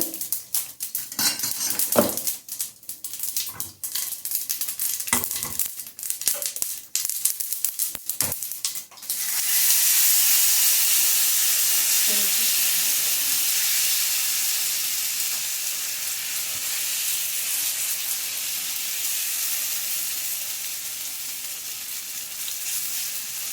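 Clinking utensils and pan clatter give way to a loud, steady sizzle of tempering spices, including sesame seeds, hitting hot oil, hissing continuously.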